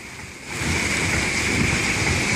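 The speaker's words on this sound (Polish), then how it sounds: "tu pada woda, żeby było ślisko" Water spraying onto a hotel water slide, a steady loud hiss of jetting water that swells after a brief softer start and then holds constant.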